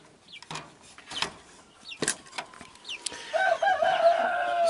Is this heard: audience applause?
no